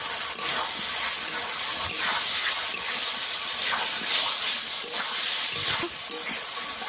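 Tomato masala for a bhola fish curry with potato and eggplant, frying and being stirred in a pan: a steady, close, loud sizzle with faint scraping of the spoon, and no talk.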